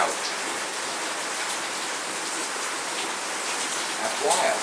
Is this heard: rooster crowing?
no